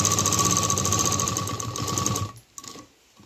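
A sewing machine runs a double line of stitching on a fabric dholak bag, a loud, close mechanical hum with a bright whine, stopping abruptly at a corner before a brief click and short restart.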